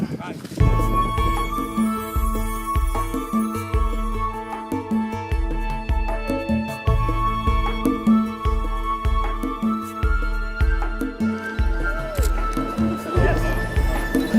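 A horse's hooves clip-clop in a steady rhythm nearby, with people talking over them.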